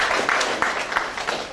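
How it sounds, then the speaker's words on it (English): Applause from a business networking lunch audience, a steady wash of many hands clapping at moderate volume for the whole stretch, with no voices standing out. "Please give a round of applause for ourselves."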